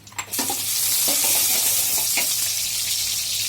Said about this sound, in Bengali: তারপর এখানে দিয়ে দিব পেঁয়াজ কুচি